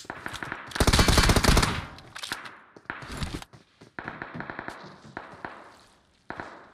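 Rapid automatic gunfire from PUBG Mobile, with a loud sustained burst followed by scattered single shots and shorter volleys, close and sharp, without talk.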